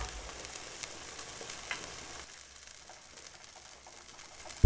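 Kung pao chicken frying in a pan as cornflour slurry is stirred in, a steady soft sizzle with occasional scraping stirs, quieter in the second half.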